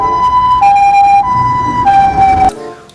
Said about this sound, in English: Wow, ambulance.